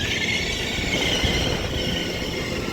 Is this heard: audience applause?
no